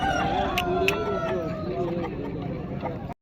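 Rooster crowing at the Nallapadu hen market. A long, close, wavering cock-a-doodle-doo rises over the chatter of the market crowd while someone talks nearby.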